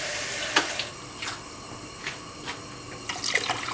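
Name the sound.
water being poured into pot of potatoes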